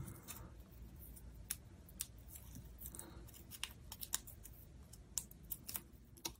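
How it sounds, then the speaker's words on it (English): Scissors snipping small paper mini dimensionals to make them smaller during card making, a series of quiet sharp snips at irregular intervals, close by over a faint room hum. "we can just kind of snip them to make them a bit smaller when needed"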